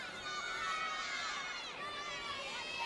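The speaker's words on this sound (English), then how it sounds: "Huge crowd." A large crowd fills the arena at a 2011 NCAA women's college gymnastics meet, Auburn at Georgia, with a steady roar of many voices, shouts and chatter throughout.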